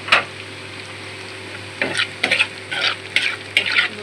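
Fish pieces frying in a pan with spices, a steady sizzle broken by several short bursts of stirring and scraping, close and fairly loud, no talk.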